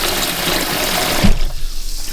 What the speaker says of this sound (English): we're going to refill the bowl with hot water and leave them to soak for about 10 minutes